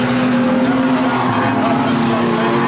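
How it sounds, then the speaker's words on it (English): Street stock race car engines roar steadily at high pitch, loud and close, at Mothar Mountain Speedway, with a commentator talking over the noise. "the pursuing car 17 of Dylan Jarman is just now underneath the canteen corner"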